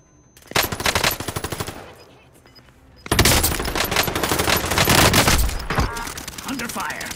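Rapid automatic gunfire in Call of Duty: Modern Warfare, a burst of repeated shots, a lull, then loud sustained firing with dense overlapping rounds close by.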